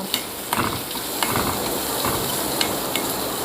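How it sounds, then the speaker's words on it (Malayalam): Onions sizzle steadily as they fry in a pan, with occasional scraping stirs of a spatula, close and continuous, no voices. "നന്നായി വഴറ്റിയെടുക്കാം കേട്ടോ"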